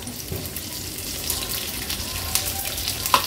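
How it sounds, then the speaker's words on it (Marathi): Chopped onion sautéing in hot oil in a pan for a vegetarian thali, a soft continuous sizzle with occasional light pops and a faint utensil tick. "कांदा तेलावर थोडासा परतून घ्यायचा आपल्याला"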